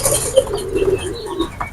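Pure-bloodline Rampuri Chamdakhani pigeons coo nearby, a low rolling burble that swells and fades over a couple of seconds, with no talking.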